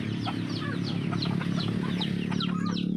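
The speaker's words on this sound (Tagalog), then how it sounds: "Pag alagaan talaga makalaga yung Brahma, talagang malaki talaga sila." Two-month-old Brahma chickens cluck and chatter steadily nearby, overlapping calls over a constant low hum, with no speech.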